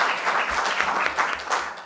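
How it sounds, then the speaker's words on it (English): A panel discussion audience breaks into a brief burst of steady applause, dense clapping from many hands. "that deserves some applause"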